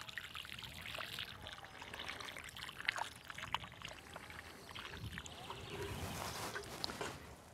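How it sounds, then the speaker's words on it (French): Water poured from a watering can onto soil around a newly planted hibiscus, a soft steady trickle and splash lasting throughout, fairly quiet and close outdoors. "Un arrosage."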